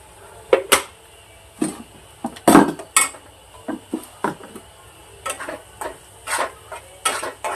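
Cashews and paneer roast in oil in a pan, heard mainly as a series of irregular metallic scrapes and clinks of a utensil against the pan, close and fairly quiet between the strikes.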